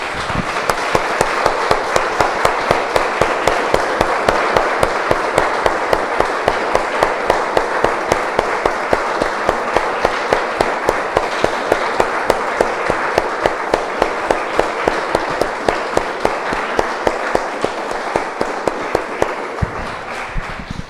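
A church congregation applauds together at length, dense steady clapping filling the room from start to finish and thinning slightly at the end, with no talking over it.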